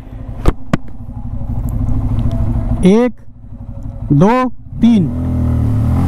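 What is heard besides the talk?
Bajaj Pulsar N250 motorcycle accelerating in 0-60 test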